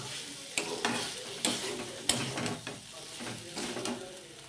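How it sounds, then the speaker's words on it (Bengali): Paneer and vegetables with spices are sautéed in a pan: a continuous sizzle broken by sharp, repeated knocks and scrapes of a spatula stirring against the metal. "এটাকে ভালো করে মশলা দিয়ে সবজি দিয়ে ভালো করে কষিয়ে নেব।"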